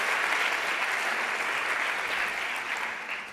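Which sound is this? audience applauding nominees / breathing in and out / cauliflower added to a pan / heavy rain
audience applauding nominees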